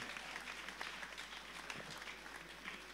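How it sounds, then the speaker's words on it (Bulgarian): Concert audience at a folk ensemble performance claps steadily and evenly, a continuous faint wash of applause heard from within the hall. "Аплодисменти за всички тях."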